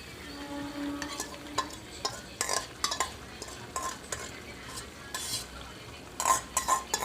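A tomato and onion paste being stirred in a pan, with repeated scraping and clinking of a spoon against metal over a faint, quiet sizzle.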